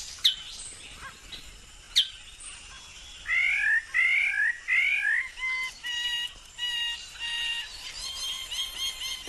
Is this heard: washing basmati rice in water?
no